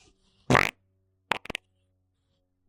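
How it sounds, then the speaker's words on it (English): A loud, close fart bursts out first, followed a moment later by a few short, sharper sputters and a tiny final pop, with quiet room between them. "Are you gonna fart?"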